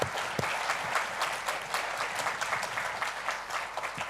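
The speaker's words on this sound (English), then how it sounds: "Please, let's give our panelists another round of applause." An audience at a panel discussion applauds the panelists, sustained even clapping from a moderate crowd heard at a distance in a hall.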